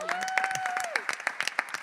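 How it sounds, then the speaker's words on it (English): A small songwriters' circle audience gives a singer a round of applause, a sparse scattering of claps under a lingering tone and a brief voice. "Should we give her a little Gosh. round of applause?"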